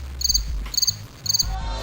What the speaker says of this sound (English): let's just do the crickets and get on with the good stuff.